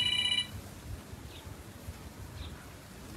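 A telephone rings in a short electronic burst at the very start, then stops, leaving faint room hiss and soft background rustle.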